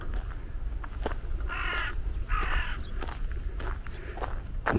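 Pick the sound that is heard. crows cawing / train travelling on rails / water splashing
crows cawing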